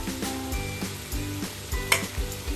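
Mint and coriander leaves sizzle and fry steadily in a pan for bagara rice, a continuous crackling hiss broken by a few soft stirring knocks, close and moderately loud with no talking.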